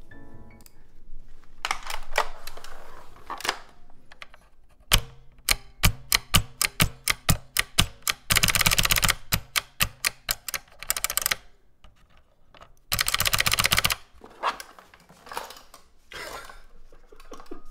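Typing on a large custom mechanical keyboard built for magnetic switches, with sharp clacky keystrokes in bursts: scattered single presses, a quick run of evenly spaced taps and dense rapid rattles, heard close with no talking.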